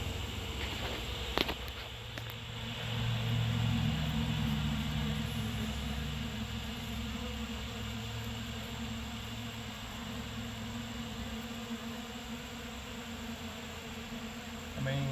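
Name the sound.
bees buzzing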